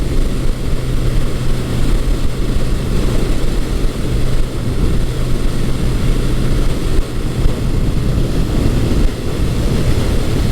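A 1980s Suzuki GS1100E superbike cruises at about 60 mph near 3,800 RPM, a steady dense engine drone mixed with heavy wind rush, constant and loud throughout with no speech.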